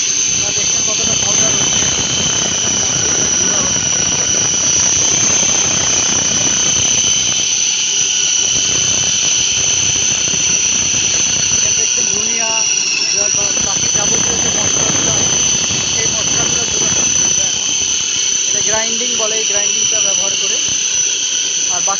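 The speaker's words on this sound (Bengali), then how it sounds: "মশলা গুঁড়া করা হচ্ছে এই একই মেশিনে" A mini combined rice mill grinds spices with a loud, continuous mechanical roar and a high steady whine, and voices are faintly audible beneath the noise at times.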